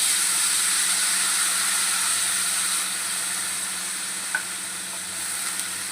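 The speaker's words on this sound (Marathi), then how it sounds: "आता आपण यात वाल घालूया." Val beans going into a spiced, sizzling pan and being stirred, a continuous bright hiss that eases slightly partway, with a faint utensil tap near the end and no talk.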